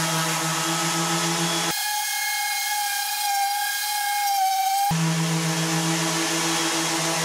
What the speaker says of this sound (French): Donc, je vais utiliser une ponceuse excentrique.